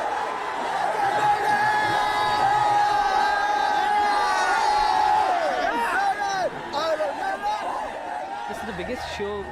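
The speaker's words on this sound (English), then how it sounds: "I don't think you'll hear a louder crowd anywhere in the world" A large crowd of Indian metal fans gathered for a concert, a loud sustained roar of many voices with shouting, chanting and cheering, close talking and laughter mixed in over the din.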